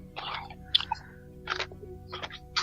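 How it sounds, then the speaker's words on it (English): Chips crunch in short, close bursts as someone chews them, three or four crisp crackly bites separated by brief pauses, with no talking over them. "I'm crunching up some Newtonium chips."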